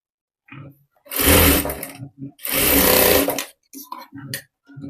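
A sewing machine runs a double line of stitching along an invisible zip on a blouse, two loud sustained bursts of motor whir separated by a short pause, with quiet handling noises and brief faint sounds around them.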